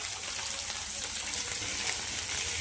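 Prawns frying with onion, ginger and garlic in a pan, a steady dense hiss of sizzling oil, close and unbroken throughout.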